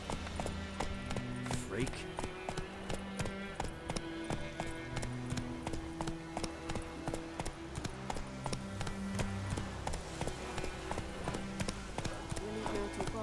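Hooves of Roach, a horse in the video game Witcher 3, galloping in a steady rapid clip-clop rhythm under game music and voices, with a speaking voice heard over it.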